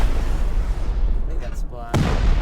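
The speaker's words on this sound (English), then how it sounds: "Just hit that bitch with a rocket." A heavy rocket blast from the video game Rust erupts into a loud, rumbling roar with a sharp burst near the end, and a voice speaks over it.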